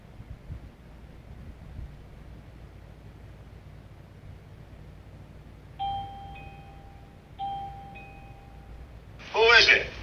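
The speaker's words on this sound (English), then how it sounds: "when the doorbell rang, it's much like a phone call coming into your device" Mubview J7 smart video doorbell ringing: two clear electronic chime tones a couple of seconds apart over quiet background hiss, followed by a brief burst of noise.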